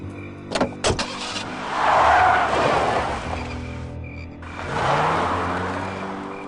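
A car in a video game pulls away, its engine swelling into a loud rev and fading, then rising again in a second surge. Two sharp clicks come first, like a door or handle.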